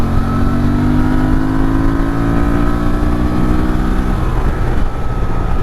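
A 2023 Honda Transalp XL750 motorcycle pulls hard in sport mode, its engine note climbing steadily through a gear before a shift near the end, loud and close with continuous wind rush and no talking.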